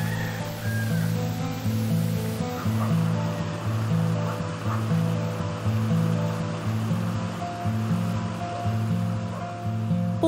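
River water flows steadily in an even, continuous wash, with a low rhythmic mechanical thumping running underneath throughout.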